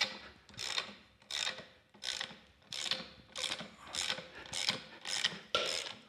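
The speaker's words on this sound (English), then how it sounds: "it'll just press that bushing right out of there" A press tool, fitted with a cup on the back side, is cranked to push an old bushing out of a Jeep JK axle. About eight rhythmic, ratcheting mechanical strokes repeat at an even pace, close and fairly quiet.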